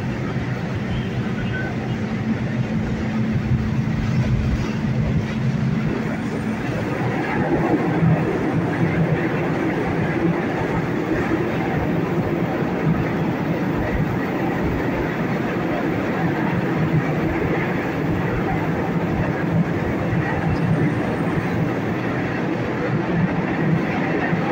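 Rio de Janeiro metro train running as it rises toward the surface, with a loud, continuous rumble and rattle of wheels on track heard from inside the carriage, with no break for the whole stretch.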